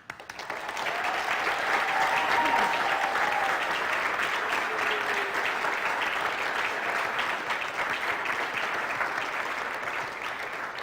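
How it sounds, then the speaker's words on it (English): A school auditorium audience applauds new National Honor Society inductees at an induction ceremony, with full, continuous clapping from many people that swells quickly and stays steady for around ten seconds. "please join me once again in applauding all of our new Honor Society members"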